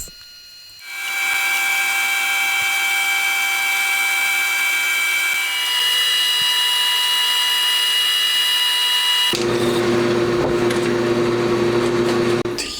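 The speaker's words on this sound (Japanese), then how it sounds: "さらに超ロングドリルを使ってまたギリギリまで掘っていきますね。" An extra-long drill bores deep into a machined main shaft for a handmade 125cc four-cylinder, 16-valve engine, whining as a loud sustained high tone that shifts pitch partway through and drops to a lower, rougher grind near the end.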